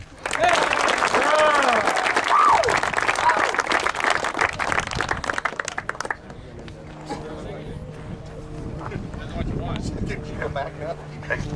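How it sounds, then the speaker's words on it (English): Audience at a high school event with the American Legion gives a cheerleader named Bridget a hand, dense applause running loud for about six seconds, then fading into scattered crowd noise and voices. "Give Bridget a hand"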